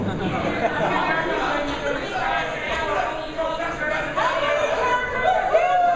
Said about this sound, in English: Now it's just becoming an unruly crowd.